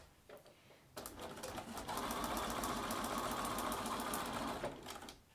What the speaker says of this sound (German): Ich glaube, meine Nähmaschine ist heute auch zu heiß.